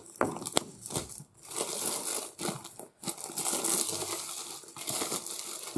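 Plastic foil wrapping around a Diamond Art Club diamond painting kit crinkles and crackles close up in repeated bursts as it is handled and torn open, with no talking.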